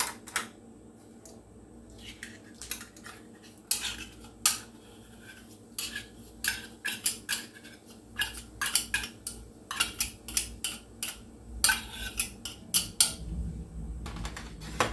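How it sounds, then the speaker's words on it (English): A spoon scrapes canned tuna out of two cans, giving a long run of sharp metallic scrapes and clinks in irregular bursts, close and fairly loud against a quiet background. "Make sure it's all scraped out of the both cans."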